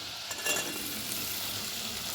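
Onions sizzle steadily in a hot pan for a garlic and curry leaf gojju, with a few soft scrapes and clinks of a spoon stirring, quiet and close.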